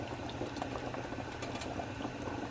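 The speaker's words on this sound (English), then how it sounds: "once that water starts boiling again" Water boiling in a pot with a little soy sauce added while noodles cook, a steady close bubbling and popping simmer with no voices.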